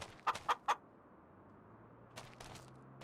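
Three quick clucks from a chicken in the video game Farming Simulator 25, followed by a low hum and a few more faint clucking sounds a moment later.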